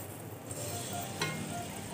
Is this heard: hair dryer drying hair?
no